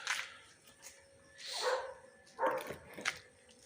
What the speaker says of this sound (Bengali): ওই যে আওয়াজটা শুনতে পাচ্ছেন ওটা হচ্ছে বাইরে